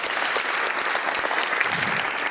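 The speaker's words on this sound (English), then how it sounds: "Please a round of applause for..." Audience applause at a sharing economy panel event, steady dense clapping from a crowd filling the room at a constant level throughout, without speech.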